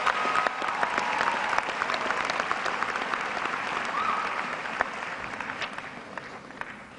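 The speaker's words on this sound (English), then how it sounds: "Let's give them a round of applause as well." Sustained audience applause at a high school graduation ceremony, honoring parents, grandparents and guardians; steady dense clapping from a large crowd throughout, tapering slightly toward the end.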